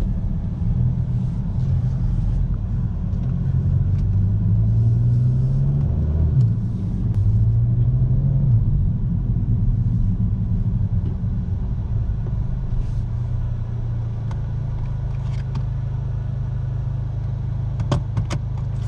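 A 2017 Volkswagen Golf GTI driving at modest speed, heard from inside as a steady low engine and road rumble that holds evenly throughout, with light rattles near the end.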